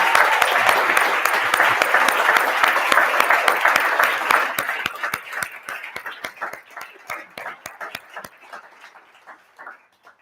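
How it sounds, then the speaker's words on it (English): An evening lecture audience on Polynesian history applauds the speakers: full, dense clapping that gradually thins out into scattered individual claps and dies away. "can we have a round of applause for our fabulous speakers this evening?"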